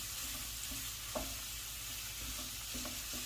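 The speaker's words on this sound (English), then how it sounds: "we're just going to brown it up just like we would hamburger" Partly frozen meat, browned like hamburger in a Natural Elements pan, hisses with a steady low fry while a spatula scrapes and stirs in a few soft, scattered strokes; no one speaks.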